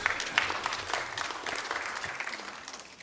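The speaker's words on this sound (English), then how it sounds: "Let's give them another round of applause." Audience applause for the panel members at an electoral preparedness forum ahead of Kenya's 2022 elections, a steady patter of clapping that is moderately loud and slowly fades toward the end.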